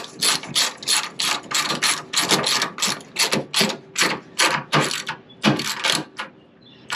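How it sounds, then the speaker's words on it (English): A cheap, low-quality ratchet cranks a truck mudflap bolt held by locking pliers, giving a loud, close, steady run of rapid clicking strokes in repeated bursts with no talking. "You take a ratchet,"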